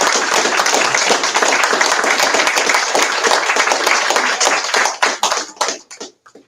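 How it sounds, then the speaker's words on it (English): Audience applause for presenters at a Left Bank Books author event: loud, close, sustained clapping from a crowd that thins into scattered individual claps and stops near the end. "let's give another giant round of applause to our"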